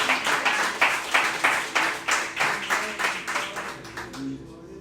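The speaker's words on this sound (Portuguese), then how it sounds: "aplauda o Senhor como seu melhor" A church congregation at Igreja de Nova Vida do Catete claps together in a strong, regular rhythm, roughly a dozen unified beats that gradually thin out and fade at the end.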